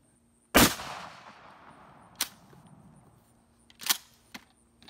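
A 12 gauge smoothbore shotgun fires a slug at an outdoor range target, one sharp loud blast with a short decaying tail, followed by two fainter distant reports and a small click.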